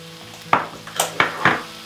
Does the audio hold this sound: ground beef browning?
yes